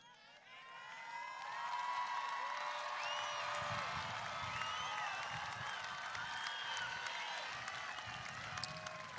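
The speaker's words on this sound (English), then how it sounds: "you hear that cheering behind you" A large graduation ceremony crowd cheers steadily, with sustained roaring, shrill whistles and whoops and scattered clapping filling the whole stretch at a distance.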